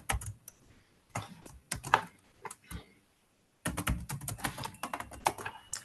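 Keystrokes on a computer keyboard while code is written, clattering in quick irregular bursts with a short silent gap midway, close and fairly quiet.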